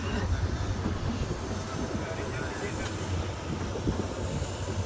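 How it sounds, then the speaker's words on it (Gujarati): A train travelling from Dhandhuka to Somnath rumbles steadily along the rails with constant wind and rolling noise throughout, a broad continuous roar with no clear voices. "પછી થોડાથી ટ્રેન ઉપડી ગઈ"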